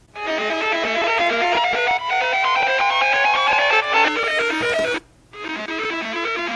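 A bright synth riser stacked in two octaves swells steadily upward, loud and sustained, with a short gap before it restarts.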